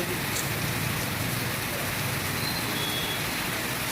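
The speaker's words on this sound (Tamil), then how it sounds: "இந்த மாதிரி மழை வந்தால் என்ன பண்ணுறது?" Heavy rain during a storm in Chennai pours steadily, a dense, even hiss of drops on surfaces that stays loud and constant throughout with no pauses.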